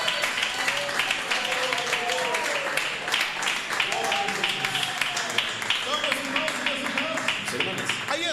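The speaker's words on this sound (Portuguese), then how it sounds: "Palmas para Jesus." A church congregation claps and applauds for Jesus during a sermon in a loud, sustained wash of clapping, with a preacher's voice speaking over it.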